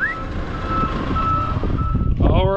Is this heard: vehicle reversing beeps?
yes